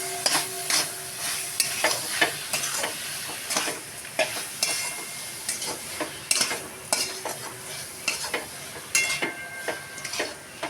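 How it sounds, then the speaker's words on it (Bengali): A coconut, sugar, sandesh and milk filling for palm pitha is stirred in a pan, with repeated close spatula scrapes and knocks over a light sizzle, without talk. "একটু নাড়াচাড়া করে সুন্দর করে পুরটাকে বানিয়ে নিতে হবে"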